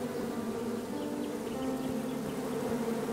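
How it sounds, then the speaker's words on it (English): Bees buzz steadily in the King's Quest video game on PS4, a continuous close drone with no talk over it. "I ruined the bees' day"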